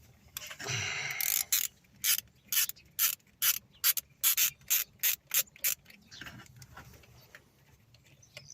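A ratchet wrench fitted with an Allen bit backs out an ignition coil screw on a Seat Leon, clicking in a quick, regular series of loud ratchet strokes close up, after an initial grinding turn, then fading to quiet handling.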